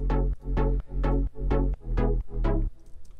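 Six evenly spaced synth chord plucks ring out in a steady rhythm, each decaying quickly, followed by a short quiet tail.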